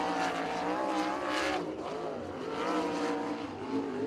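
A USAC sprint car engine roars along the track at full throttle, loud and close, its pitch sweeping up and down as the car passes down the straightaway.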